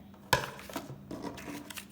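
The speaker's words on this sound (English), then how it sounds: "So I'm cutting all of these cards out nicely." Scissors snip paper cards with one sharp clean cut, followed by quieter rustling and small handling sounds, close and faint.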